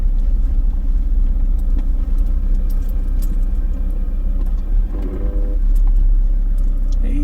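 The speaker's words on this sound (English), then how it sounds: "This is probably the steepest slope I've ever driven in this car." A car engine rumbles low and steady while the vehicle creeps down a very steep slope on a washed-out track, with small rattles and jangles of loose items throughout.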